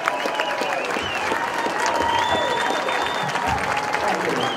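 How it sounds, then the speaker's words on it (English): A crowd at a Gila gathering in March 2011 claps loudly and steadily to welcome Congressman Steve Pearce, with some cheering voices rising through the continuous applause. "give a good round of applause for a great congressman, Congressman Steve Pearce"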